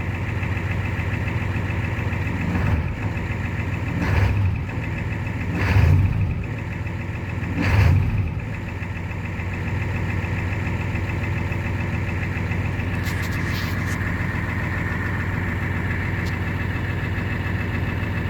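A 1994 Ford F250 with a 7.3 liter diesel and Banks power pack turbo idles after a cold start at 30 degrees, a steady, close, rough clattering rumble with a few brief louder swells early on.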